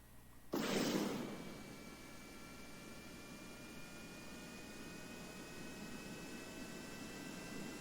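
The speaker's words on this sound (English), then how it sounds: "the takeoff is a little weird off the dirt runway" An aircraft taking off from a dirt runway in the video game Kerbal Space Program: a sudden loud burst of engine roar, then a sustained, fairly quiet jet-like hiss with a faint rising whine.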